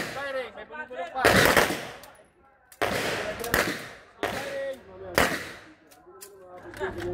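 Sharp, loud gunshots at a shooting competition, several reports spaced irregularly about a second apart, each with a ringing tail, with a voice talking between the shots.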